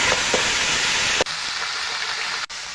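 Ash gourd pieces hitting hot oil with fried green chillies, giving a loud, steady broadband sizzle that holds for the whole stretch with two brief dips.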